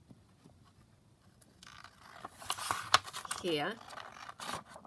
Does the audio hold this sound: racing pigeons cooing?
no